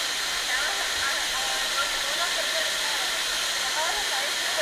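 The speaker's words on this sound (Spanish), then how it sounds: "Está un buen rato ahí debajo de la cascada." A waterfall rushing down into Ordiceto canyon during a canyoning descent, a loud, steady, hissing roar that fills the whole stretch, with voices faintly present underneath.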